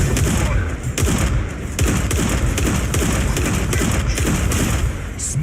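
Weapons fire in the Mech Arena mech combat game, loud rapid bursts of gunfire and thudding impacts in dense volleys throughout, with in-game voice callouts mixed in.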